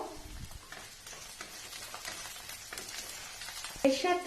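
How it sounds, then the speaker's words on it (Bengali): Chopped onions fry in mustard oil in a wok, a steady broadband sizzle that runs throughout at close range, with a brief spoken phrase and some clinking near the end. "এবারে এর ভেতরে আমি পেঁয়াজ কুচিগুলো দিয়ে দেব পেঁয়াজ কুচিগুলো একটু ভাজবো"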